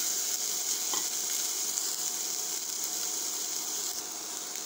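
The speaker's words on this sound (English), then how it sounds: "Now the oil is hot enough. Now I am adding the vegetables along with this." Mixed vegetables frying in hot oil for vegetable biryani, a loud even crackling sizzle with a faint stirring scrape, close and unbroken with no voices.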